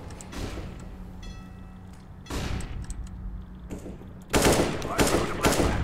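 Gunfire in a PC first-person shooter game, with bursts of shots and explosive blasts growing louder toward the end, mixed with game noise and a player's voice speaking.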